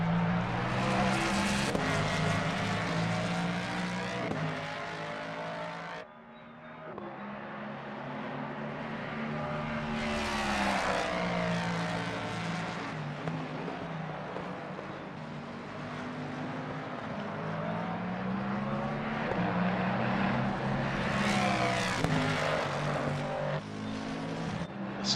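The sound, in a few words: Mustang GT3 race car engine on track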